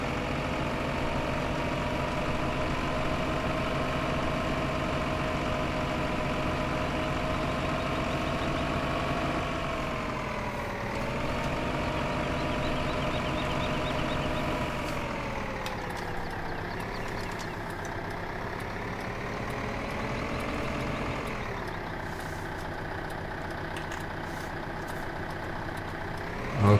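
A tractor engine in Farming Simulator 2015 drones steadily at a low, heavy pitch. It dips and swells as the revs shift near the middle and again later, and no one speaks over it.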